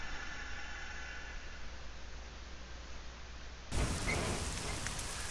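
Rain in Euro Truck Simulator 2: constant rain hiss with a low truck engine drone beneath, then the rain abruptly turns louder and brighter partway through.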